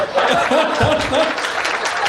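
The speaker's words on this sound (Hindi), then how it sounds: "बजाते रहो तालियों" Audience applause at a live Hindi comedy show, a dense, continuous clatter of many hands with light laughter and murmuring mixed in.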